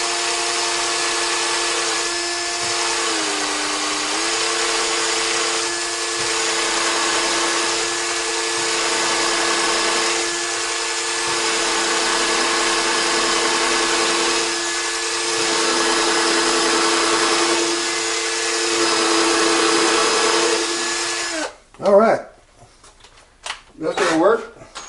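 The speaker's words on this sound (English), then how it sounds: "Once I get this one drilled, I'm going to drill the outside of this piece of wood" A power drill drilling into wood while building a screenprinting frame: a steady motorized whine runs for about twenty seconds with a brief pitch dip early on, then stops, followed by a few knocks and clatters.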